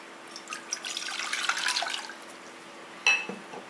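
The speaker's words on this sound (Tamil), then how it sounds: "தண்ணி ஊற்றிக்கிறேன் ஃபஸ்ட்டு." Water splashes and trickles steadily into a pot for a rose milk recipe for a couple of seconds, then a brief clink and a few drips follow in a quiet room.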